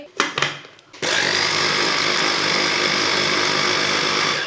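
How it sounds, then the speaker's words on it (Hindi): An electric grinder whirs steadily as it blends four eggs with a spoonful of sugar, a loud continuous motor drone after a few brief knocks at the start, running alone without talk. "अंडों को ना ग्राइंड कर लेंगे"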